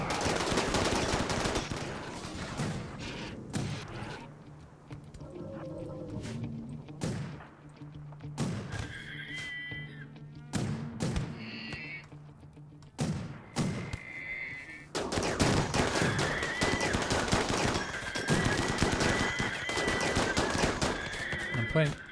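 Charge rifle fire in a colony-building video game comes as repeated sharp bursts of loud gunfire, bunched into volleys with short gaps, and dense continuous firing near the end.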